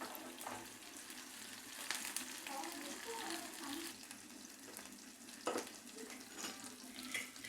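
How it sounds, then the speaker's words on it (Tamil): Small onions sizzle in hot oil with popped mustard seeds and curry leaves for a country chicken curry, a faint, steady frying hiss with occasional stirring scrapes, heard close with no talking. "கடுகு பொரிஞ்சிருச்சு. இப்போ வெங்காயம் சேர்த்துக்கலாம்."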